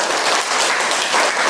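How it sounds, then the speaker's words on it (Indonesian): A classroom of students claps together in a steady, dense burst of applause that fills the moment, loud and close, with no talking over it. "Kita tepuk tangan dulu."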